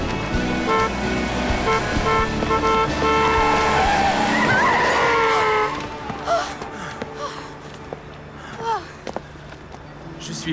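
A car speeds toward someone with tires skidding in a long screech and a brief horn toot, loud and close, then fading into quieter traffic noise in a dubbed romantic comedy scene.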